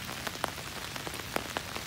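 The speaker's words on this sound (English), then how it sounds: "Hopefully the rain will let up and that'll be most of the solution." Steady rain falls on outdoor surfaces during a flood, a dense, even hiss broken by scattered louder drop impacts, close and continuous.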